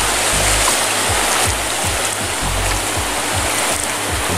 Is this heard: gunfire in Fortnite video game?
no